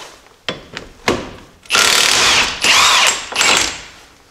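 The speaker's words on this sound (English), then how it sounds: "take this 36 millimeter nut off with my impact" An impact wrench removes a 36 mm hub nut on a Jeep Dana 30/44 axle: a few clanks of the socket going on, then three loud, close bursts of rapid hammering with brief pauses between.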